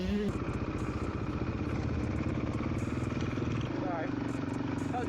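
Beta RR430 motorcycle engine running near a sand track at a motocross park, a loud, close, choppy mechanical rumble with rapid rhythmic pulses and a brief rising rev near the end.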